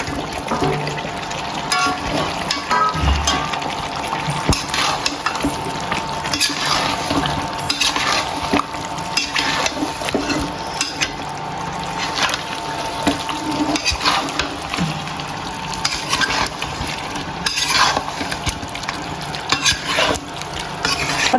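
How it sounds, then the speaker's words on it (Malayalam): Chicken cooks in a bubbling biryani gravy while a spoon stirs and scrapes the pan. Loud, close sizzling runs throughout, with repeated clinks and scraping of metal on the pot. "നമ്മുടെ ഗ്രേവി അതുപോലെ ആവുമ്പോൾ നമ്മുടെ ചിക്കൻ അതിലേക്ക് ഇട്ട് കൊടുക്കാം"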